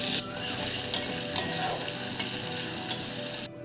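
Chopped onion sizzling in mustard oil with cumin seeds in a wok, a steady close hiss with a few sharp scraping clicks from stirring, no voices.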